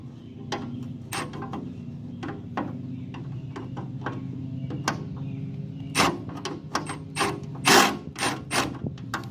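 Ratchet clicking in short bursts while loosening bolts on an old Onan generator, close up, with brief louder clanks of metal near the end.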